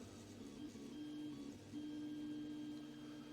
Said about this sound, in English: So now it's printing